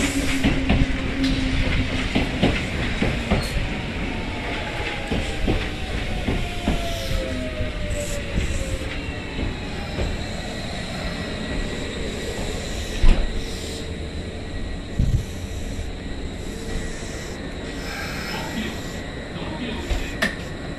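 A suburban train on a Japanese line, the Keihan, rounds a sharp curve and rolls into a station, wheels clattering with a faint squeal, steady and close with a few louder knocks.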